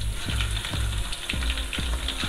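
Chicken pieces frying in a pan of oil with browned onion, ginger and garlic for a Mughlai-style chicken korma, a steady loud sizzle with crackling bursts throughout, no talk.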